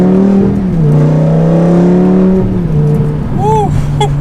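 A manual-transmission V8 car pulls hard from second gear, its loud engine droning and rising in pitch through the run, with a brief dip as revs shift, recorded close and inside the car.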